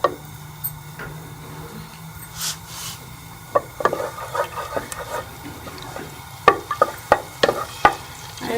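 Spoonful of ghee melting and sizzling in a pan at the start of a green chana pulao, a low steady sizzle broken by repeated sharp clicks and taps of a spoon against the pan, close and without talk.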